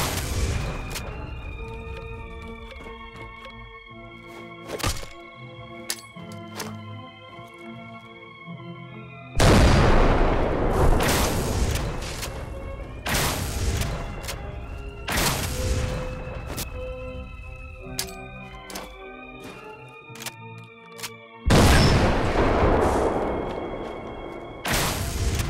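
Grenade launcher shots and blasts at a close-quarters target range in Fallout 4 ring out alone, several sharp loud bursts spread across the stretch with echoing tails between.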